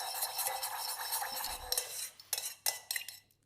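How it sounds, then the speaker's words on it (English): Utensil scraping and clinking in a bowl while lime juice dressing for a hot and sour salad is stirred, a steady run of close scrapes ending in a few sharp separate clinks and taps. "So again, give that a stir."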